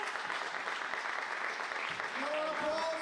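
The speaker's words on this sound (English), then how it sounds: "More applause for champion, the European under-23 9-ball champion, Denis Daszkowski." Steady applause from a crowd after a European under-23 9-ball pool championship final, filling the whole moment with dense clapping, while a voice speaks briefly over it near the end.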